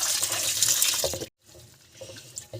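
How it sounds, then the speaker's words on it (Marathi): Tap water runs and splashes into a sink as greens are rinsed, the flow stopping briefly and then resuming more softly with light sloshing. "सगळी कोथमीर आपण धुवून घेऊया स्वच्छ"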